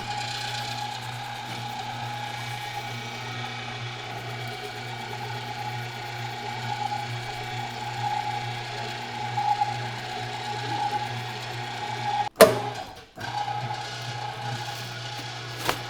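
An electric meat mixer churning deer meat with mustard seed, a steady mechanical drone with a ratcheting gear chatter, then a sharp clunk and a short break near the end before the motor resumes.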